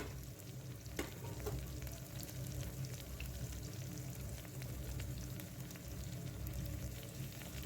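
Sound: onion and tomato being sautéed together

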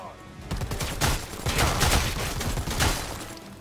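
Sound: gunfire in the video game Predator: Hunting Grounds

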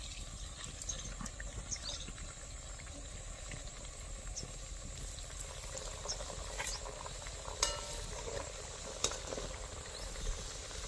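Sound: frying Mathura-style cakes in oil

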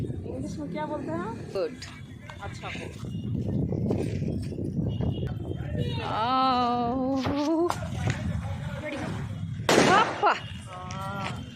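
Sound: firecracker rocket going up and bursting

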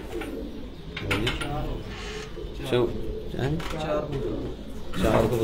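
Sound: Farran pigeons arriving at a pigeon tournament

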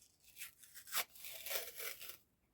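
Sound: tearing open a paper surprise packet along its perforation

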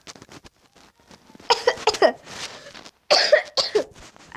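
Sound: coughing

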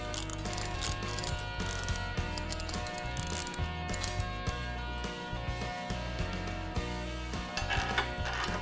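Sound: portable davit lever reversed, rolling manway back into place

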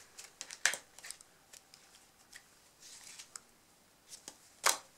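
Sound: playing cards handled in a 190 degree helix false cut

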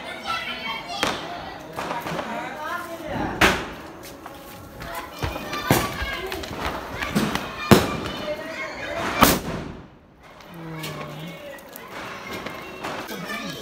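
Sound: Hanuman bomb firecracker exploding for Diwali

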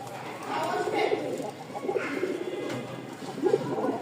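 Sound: male pigeon cooing in a new place

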